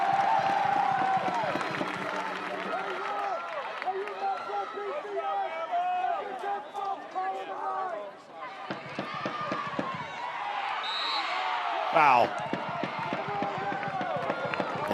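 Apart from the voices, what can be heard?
applause from Alabama fans at a women's soccer game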